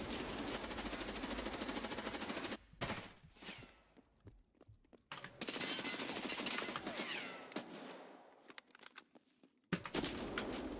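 Rapid automatic gunfire in the Escape from Tarkov shooter game, loud bursts of shots in several spells separated by short quiet gaps.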